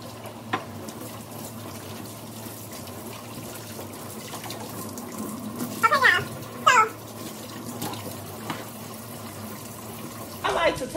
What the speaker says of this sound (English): Turn on cool water and just set my rice under there